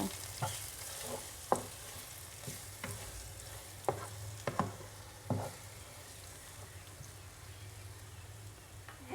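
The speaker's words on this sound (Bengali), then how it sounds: "আর আদা রসুন পেস্ট দিয়ে আমি মশলাটা একটু পেঁয়াজের সাথে মিক্স করে নেব" Onion paste with ginger-garlic paste and spices frying in a pan for catfish bhuna, a soft steady sizzle broken by several sharp spoon scrapes and stirring clacks, close and moderately quiet.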